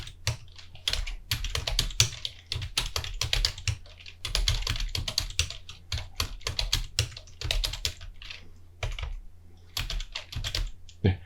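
Fingers type in quick bursts on a computer keyboard, tab presses mixed in, a close, crisp clatter of keystrokes with short pauses between runs while entering spreadsheet entries.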